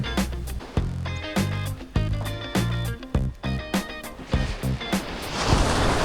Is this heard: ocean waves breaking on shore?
yes